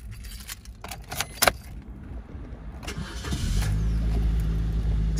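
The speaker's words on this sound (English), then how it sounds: "Give the car a quick start now." A 2021 Suzuki Baleno GL with keys jangling at the ignition, then the engine cranks and starts on the first try and settles into a steady, close idle; no talking.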